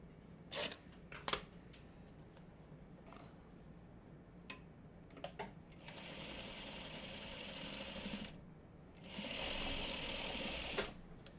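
Sewing machine stitching quilt block pieces runs in two steady, fairly quiet whirring bursts in the second half, after scattered clicks and handling taps.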